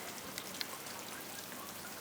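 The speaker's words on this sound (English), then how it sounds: "It's a rainy day today." Steady rain falls on a rainy day, a soft, even patter with a few sharper drops landing close by, continuous and fairly faint with no talking.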